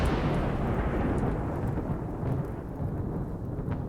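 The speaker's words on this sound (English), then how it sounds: "Flash storm." Flash storm thunder in the colony game RimWorld, a loud rolling rumble with steady rain, strongest at the start and slowly easing off.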